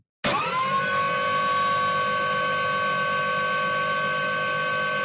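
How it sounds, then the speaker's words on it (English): A forklift's steady, loud mechanical whine with bright tonal overtones and a low hum beneath, starting suddenly and holding constant throughout. "Forklift."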